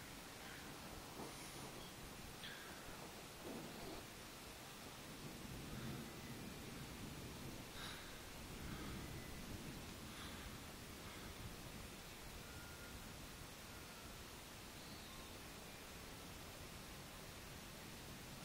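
A severe thunderstorm brings a constant, faint hiss of heavy rain, with soft, distant rumbles of thunder rising now and then.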